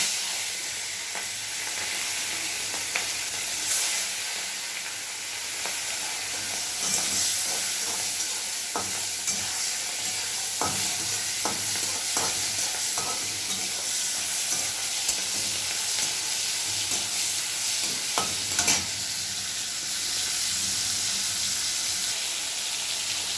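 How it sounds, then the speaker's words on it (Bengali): Prawns frying in hot oil in a wok give a steady sizzle throughout, with clatters of stirring scattered on top and no voices. "চিংড়ি মাছটা ছেড়ে দেবো ভাজার জন্য"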